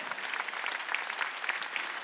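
A congregation claps during a Wednesday church service, producing continuous, dense applause throughout, fairly close and even in loudness.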